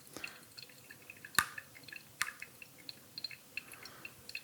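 Coffee drains through a pour-over coffee maker: faint, sparse drips and small liquid ticks, close by, with scattered irregular drops over a quiet background.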